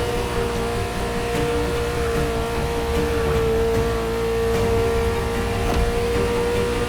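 A Ferrari sports car engine in The Crew Motorfest holds a loud, steady, sustained drone with a constant tone, heard alone without speech.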